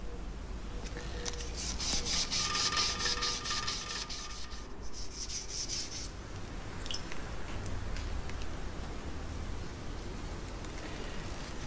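Steady fine-grit sandpaper rubbing on metal during engraving and ornamentation work, a continuous close scratching hiss with rhythmic back-and-forth strokes and no speech.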